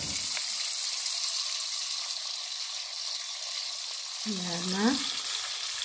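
Food frying in a pan on a stovetop gives a steady, close sizzle throughout. A short spoken phrase and a brief scrape or stir come near the end.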